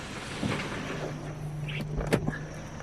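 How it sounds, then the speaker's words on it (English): A heavyweight truck rolls past on a roadside during outdoor trash picking: a steady low engine rumble with a few sharp rattles and clunks, close by and moderately loud. "really heavyweight truck just went by"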